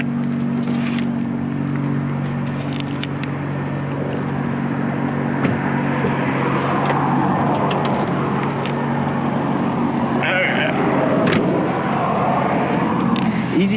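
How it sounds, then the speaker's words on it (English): A 2017 Nissan GT-R on a test drive gives a steady engine and road drone with tire and wind noise throughout, a continuous close cabin rumble with light clicks and bumps on top. "driving a GTR"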